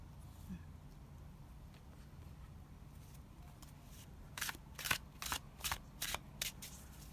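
Tarot cards are shuffled in a quiet room: a faint rustle, then a quick series of about seven crisp riffle snaps near the end.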